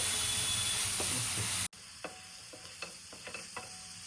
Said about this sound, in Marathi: कांदा मिरची सगळं आपल्याला मस्त चांगल्या प्रकारे परतून घ्यायचं